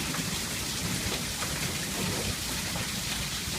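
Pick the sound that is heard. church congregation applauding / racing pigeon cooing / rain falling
rain falling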